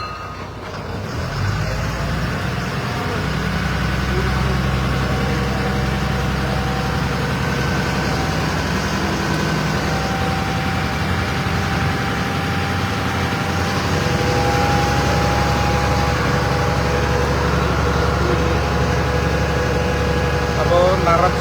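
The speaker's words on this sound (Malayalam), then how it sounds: "ഇതിപ്പം ഒരു ബോട്ട് ജെട്ടിയിൽ അടുത്തിരിക്കുകയാണ്." A Nedumudi passenger boat's engine idles at a jetty during rain, a loud, steady low rumble that continues for the whole stretch under a constant wash of rainfall.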